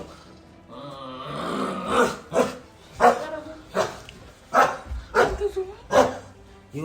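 A man imitates a dog indoors, letting out a long growl followed by a series of loud, rhythmic barks spaced about half a second to a second apart, close to the microphone.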